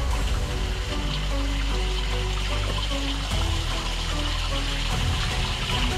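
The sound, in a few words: water flowing inside a cave hole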